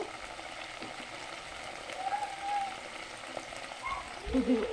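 Egg chilli frying and being stirred in a pan, a soft steady sizzle with occasional scraping and stirring sounds, fairly quiet and close.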